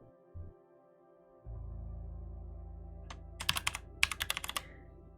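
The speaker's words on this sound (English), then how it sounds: "are you good with the typing noise?" Typing on a computer keyboard during a livestream editing session gives quick clusters of close, crisp key clicks over a low steady hum.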